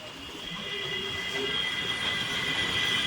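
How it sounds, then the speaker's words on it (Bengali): Kolkata Circular Railway train running near Howrah Bridge as it slows, with a steady rumbling roll and a high wheel whine held throughout, close and continuous with no talk. "এখান থেকে ট্রেনটার গতি অনেকটাই কমিয়ে দেওয়া হবে"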